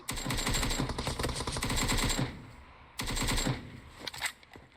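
Automatic gunfire in PUBG Mobile rattles out in two long rapid bursts, loud and close, followed by a few scattered shots.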